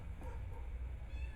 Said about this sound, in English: The cat's trying to get in.